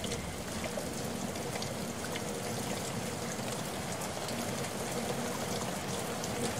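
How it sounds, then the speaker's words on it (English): Steady rain falls as a dense, even hiss of drops, constant and moderately loud throughout, with no voices. "Rain!"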